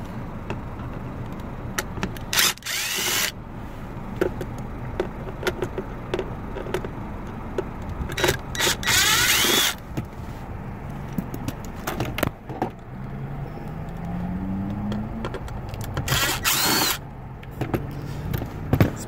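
A power drill fitted with a Torx T25 bit backs out glove box screws inside a 2018 Jeep Renegade, with several short loud bursts of whirring and clattering between quieter handling noises.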